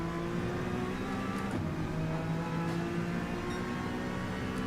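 A race car engine in a racing video game roars steadily on the throttle, accelerating out of a long left-hander at Suzuka's Degner curves. Its continuous whine stays loud and constant throughout, with no talk.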